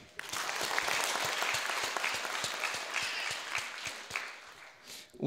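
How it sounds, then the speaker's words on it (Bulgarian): An audience applauds after a theatre performance of the play "Panelen Rai 13", dense sustained clapping filling the room and tapering toward the end. "Аплодисменти още веднъж за нашия състав."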